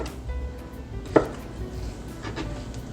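A knife scoring a ripe mango into large dice, one crisp cut standing out among faint soft taps and scrapes against the board, quiet and close, with no talking.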